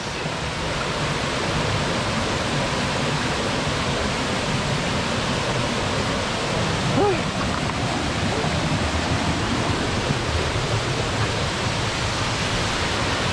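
Angel Falls waterfall gives a steady, loud, broad rush of falling water that holds unchanged throughout.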